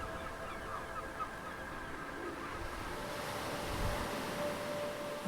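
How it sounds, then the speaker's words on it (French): Seagulls call faintly at the seaside over a steady wash of surf and wind, their cries thin and distant. "les mouettes"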